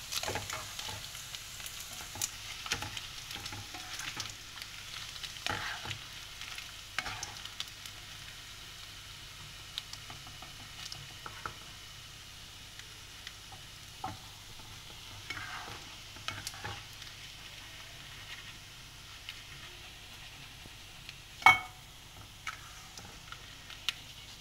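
Ikan bilis (anchovies) frying in a pan for gulai sayur asam, with a steady low sizzle and intermittent scraping stirs, one sharper clank near the end, no voices.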